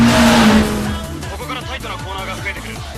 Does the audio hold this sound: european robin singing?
no